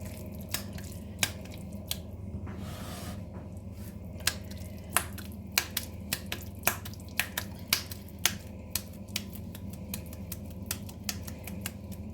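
Raw minced meat with onion and soaked breadcrumbs shaped into round cutlets by wet hands, giving a string of soft wet slaps and squelches at an irregular rhythm, close and fairly quiet, with no talking.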